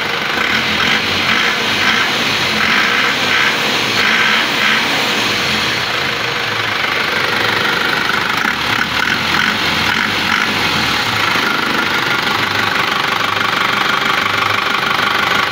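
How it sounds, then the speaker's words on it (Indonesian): A 2001 Isuzu Panther Touring diesel engine idles steadily close by, with a constant clattering, knocking rumble and no talking throughout. "Tinggal suara mesinnya tok yang denger ya"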